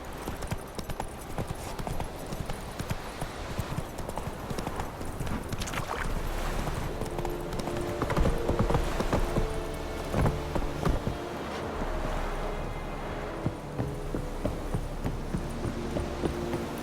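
Roach, the horse in The Witcher 3 video game, trots with steady, continuous clip-clopping hooves over a constant low hum of game ambience, fairly loud and close throughout.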